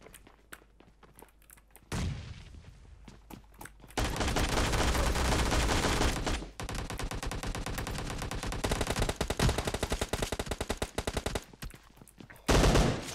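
Rapid bursts of automatic gunfire and single shots in the mobile game PUBG Mobile, loud and close, sometimes broken by short pauses, with no talk.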